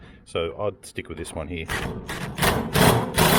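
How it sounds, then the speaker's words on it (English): An impact driver drives a screw through hoop-iron strapping and bracing on a shed, with close, loud, rattling hammering bursts over the last couple of seconds, right after someone speaks briefly. "So I'm using this impact driver here."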